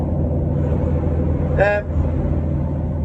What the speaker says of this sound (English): So here we are, I'm in my diesel Defender